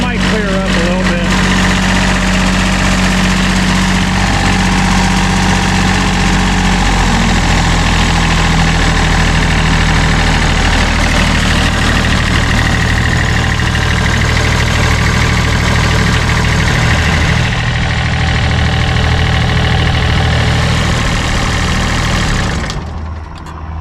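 An old commercial diesel mower engine, left in a field for 20 years, idles loud and close after a cold start without glow plugs, a rough, steady low rumble running throughout.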